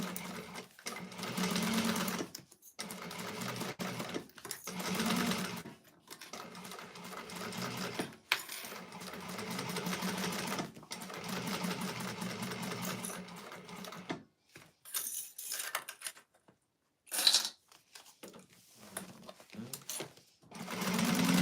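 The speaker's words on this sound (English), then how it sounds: "we're going to baste down these sides and up the center here" A sewing machine bastes the sides and center of a bowler bag exterior with an eighth-inch seam, running in long steady stretches broken by short pauses and a few sharper clicks near the end.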